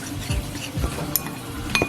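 A spoon stirs a dry mix of cornmeal and flour in a bowl, making close clinking and scraping against the bowl with a few soft rhythmic thumps, brief and without any voices.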